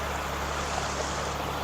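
Steady rushing water from a waterfall beside a steep, rocky off-road trail in North Idaho, a constant broadband wash heard up close with no talking.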